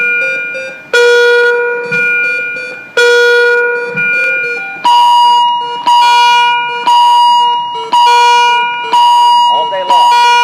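An electronic alarm sounds in repeated loud bursts of harsh buzzing tones, roughly one per second, shifting pitch partway through, with faint voices beneath.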